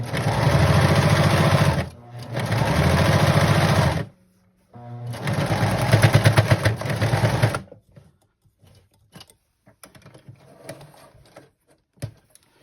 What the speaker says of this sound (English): I've sewed almost all the way around it, 3/4 inch seam allowance, and I will backstitch at the end.